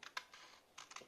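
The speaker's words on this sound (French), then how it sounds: "Pour ça, tu prendras tes ciseaux" Scissors snipping through paper while cutting pieces for a handmade photo frame, a quick series of crisp, close cuts in two short bursts, with no talking.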